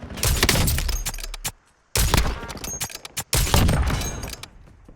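Gunfire in the battle royale video game Warzone: three loud bursts of rapid automatic fire, each lasting over a second and separated by brief pauses, close and harsh with no talk.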